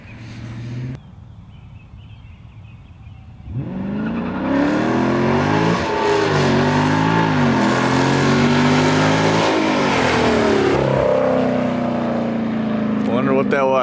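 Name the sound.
Dodge Challenger Scat Pack 392 accelerating 0-60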